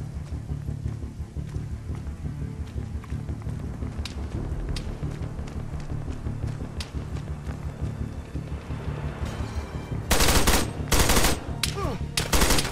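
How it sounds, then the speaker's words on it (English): Gunfire from Arma 3, including sniper fire from a town, pops in scattered sharp shots over a low rumbling game backdrop before a few louder, harsher bursts near the end. "you got a sniper shooting at me from the town somewhere"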